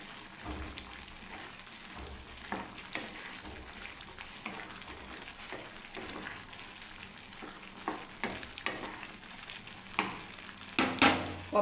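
Dalma, a mixed-vegetable lentil dish, is poured into a hot tempering of onion, garlic, dried chillies and curry leaves, giving a steady moderate sizzle with scraping stir noises and a few sharper bursts of crackle near the end.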